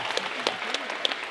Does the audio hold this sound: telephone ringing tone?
no